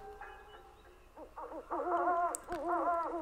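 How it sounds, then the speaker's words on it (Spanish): Owl calling among surviving trees on the edge of Ciudad Juárez, a run of wavering, harmonic hoots and screeches repeating close together at moderate volume, with a faint background and no talking. "Solamente escuchaba de repente, entre los árboles que sobrevivían a la modernidad, el canto de la lechuza."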